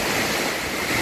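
Strong typhoon wind during Typhoon Uwan in Daet roars in a continuous, loud rush that buffets the microphone, with no pauses.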